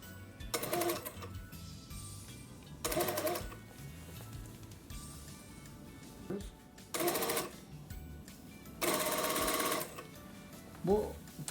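Sewing machine stitching the sleeve of a coat in four separate loud bursts of running stitches, with quiet pauses between them and a few soft handling knocks.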